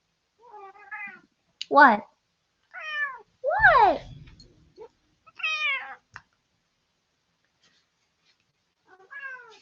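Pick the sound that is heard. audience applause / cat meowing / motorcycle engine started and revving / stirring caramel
cat meowing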